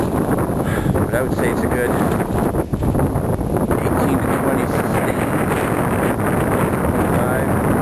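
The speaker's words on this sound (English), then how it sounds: "a lot of fun in this kind of wind" Strong, gusty wind buffets the microphone aboard a small sailboat in rough small-craft-advisory conditions, a loud continuous roar under a voice speaking throughout.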